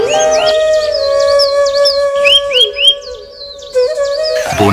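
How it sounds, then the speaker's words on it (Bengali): Birds call in a forest at dawn: several near, clear chirps, whistles and warbling phrases that overlap continuously above a steady tonal drone. "পাখির ডাক"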